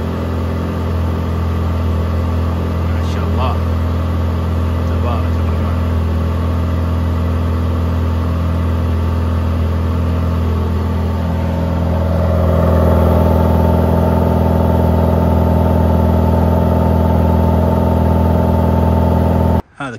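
A Mercedes-AMG GT Black Series Project One, its engine mounted at the rear, idles with a steady droning hum, then swells a little louder partway through before cutting off abruptly.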